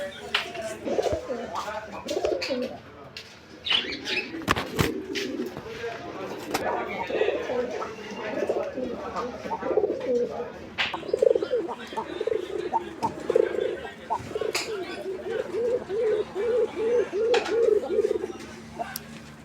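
A pair of pigeons coos repeatedly in soft, rounded bursts at close range, with sharp clicks and knocks scattered throughout and faint background chatter underneath.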